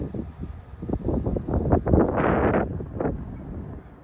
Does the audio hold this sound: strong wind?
yes